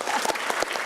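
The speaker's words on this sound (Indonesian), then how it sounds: "tepuk tangan dulu buat Pak Dedi" Audience applause for a guest speaker at an Indonesian talk-show event on debt and lifestyle, a steady wash of many hands clapping close and loud throughout the short burst.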